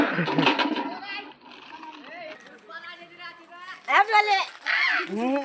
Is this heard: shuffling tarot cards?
no